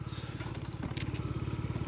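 A Yamaha Jog SA36 fuel-injected scooter engine runs steadily with a fast, even putter, fairly quiet, with a brief scrape or click partway through and no voices.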